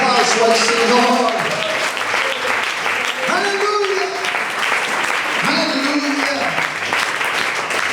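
Congregation at a Spanish-language church service applauding, continuous dense clapping throughout with voices calling out and talking over it.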